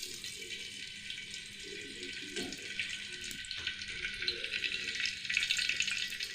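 Steady, crackling sizzle of fenugreek seeds frying in hot oil, close up, with no speech.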